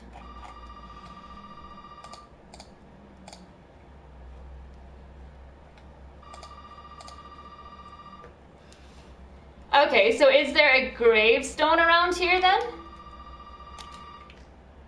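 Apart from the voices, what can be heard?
telephone ringing in Resident Evil 7 video game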